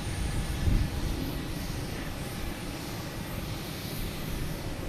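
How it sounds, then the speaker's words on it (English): A Learjet 45 taking off at Boston Logan Airport comes through as a low, steady, fairly distant jet rumble with a faint whine, a brief swell near the start, then an even drone. "We got a Learjet 45 taking off"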